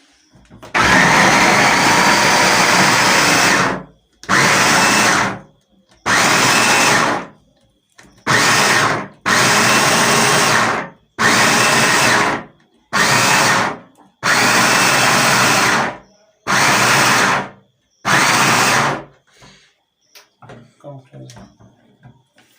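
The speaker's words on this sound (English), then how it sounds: "So you see already how it is mashing it." A yam pounder machine, a multipurpose yam, cocoyam and potato pounder, mashing yam with loud whirring motor bursts repeated in on-off pulses of a few seconds each, followed by quieter clunks and handling noise at the end.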